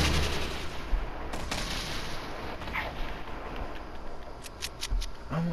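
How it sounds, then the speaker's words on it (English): Grenade launcher fire in a video game, a few dull thumps and sharp bangs scattered over a steady background hum of game noise, moderately loud. "Shoot some grenade launchers."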